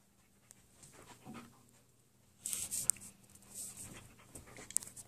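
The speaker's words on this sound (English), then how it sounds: "Hi, dog." Dog panting softly indoors, quick faint breaths and a few small whimpers, quiet at first and then closer and louder with scratchy movement noises.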